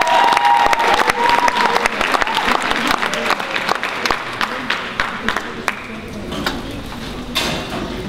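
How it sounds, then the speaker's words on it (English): Audience at a school Easter cabaret applauds student dancers, loud clapping mixed with cheers and chatter, thinning out toward the end as a few voices carry on. "Give them a big round of applause."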